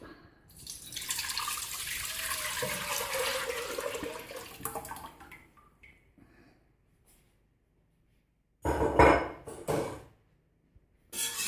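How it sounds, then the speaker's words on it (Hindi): Mixed fruit souffle mixture poured into a cooking pan, a steady liquid pour for several seconds that fades out, followed by a brief louder splash and clatter after a silent gap. "जी अब इसको हम पकने के लिए पैन में डाल रहे हैं।"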